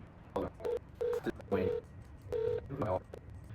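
Touch-tone telephone keypad dialing an outgoing sales cold call: a string of short, evenly spaced beeps, about eight quick tones in irregular bursts, close and clear over faint room noise.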